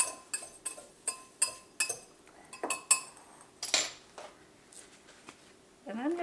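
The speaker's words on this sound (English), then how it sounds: "now I'm just going to stir that up" A utensil stirs a homemade copycat garlic seasoning mix, with a dozen sharp, close clinks against the container in an uneven rhythm, followed by a brief scraping rustle at the end.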